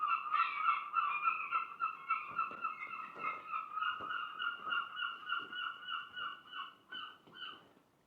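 A seagull calls repeatedly at Mevagissey harbour, loud, close, harsh cries in a steady run that fade toward the end, with faint background noise beneath.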